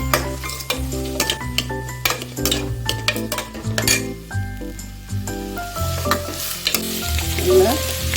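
Two onions and three crushed cloves of garlic sautéing in oil, a close busy sizzle with repeated stirring scrapes and the clink of a utensil against the pan, over steady background music.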